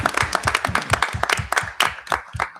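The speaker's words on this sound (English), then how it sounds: "Can we have a round of applause for Aria and Lizbeth, please?" Audience applause at a school committee meeting for two students, a close, crisp run of individual hand claps in quick irregular rhythm, moderately loud and alone.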